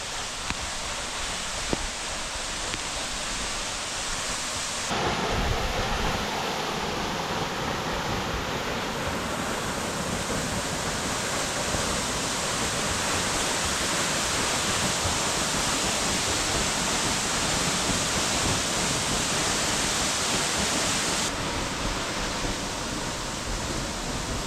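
A mountain waterfall rushes in a steady, loud, broadband roar for the whole stretch, with no talking and only slight shifts in intensity.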